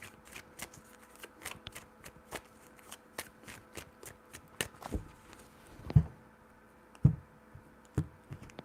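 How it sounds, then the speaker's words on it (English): A deck of tarot cards is shuffled three times: a quick run of crisp riffling flicks, then a few louder, slower taps and knocks as the cards are squared, close and clear. "3 shuffles."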